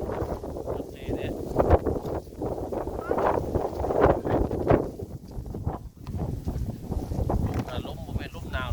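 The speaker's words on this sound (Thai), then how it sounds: "ลมบ่แม่นลมหนาวหรอกลมเย็น" Cool wind gusts steadily across the microphone outdoors, a continuous rushing roar with uneven swells throughout.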